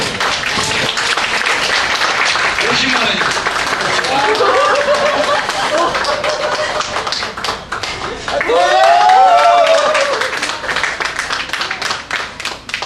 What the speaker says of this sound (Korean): 우리 문장님 어디 한번 박수 보내주시고 예.